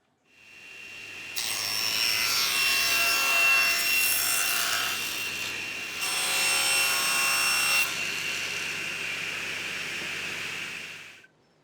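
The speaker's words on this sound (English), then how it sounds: "I'm cleaning up one edge with a hand plane to make it straight and true" A hand plane shaves along the edge of a sheet of homemade plywood in two long strokes, each a loud, close, hissing scrape with a short pause between them.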